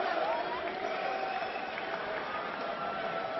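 MMA arena crowd chanting for Freeman before a Freeman vs Mir fight, a continuous dense wash of voices and rising noise, steady and moderately loud throughout.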